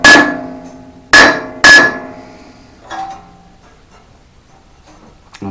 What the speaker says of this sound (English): This hammer is probably a little overkill, but you just want to tap it.